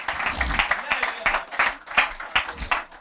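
A church congregation at a Hindi sermon claps loudly in praise of Jesus, giving uneven, crowded bursts of applause with voices mixed in throughout.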